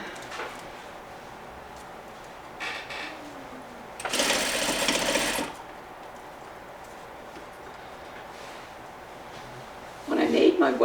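A sewing machine stitches slip cover fabric for a Parsons chair in a steady, rapid whirring run of about a second and a half, with a shorter burst at the end and quiet handling between.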